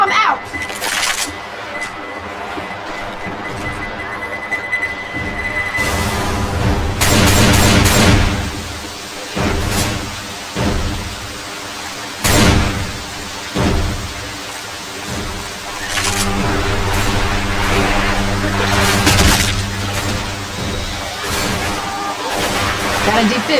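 A pipe bomb goes off amid zombie combat in Left 4 Dead 2, with heavy booming blasts and gunfire bursts over ongoing game noise, with voices talking throughout.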